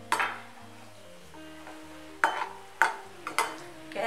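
Cashews fry in ghee over a low flame with a soft steady sizzle, broken by a few sharp stirring clinks of a utensil against the pan, close up, with background music underneath.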